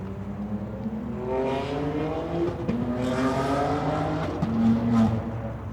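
A BMW M340i with an S58 engine and catless downpipes revs up and holds a raspy, rising note, then climbs again in a second loud pull, heard alone and close.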